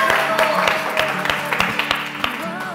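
Studio audience applause and clapping greeting two guests on a Spanish-language music TV show, a steady dense patter with sharper individual claps standing out, while background music or tones hum underneath.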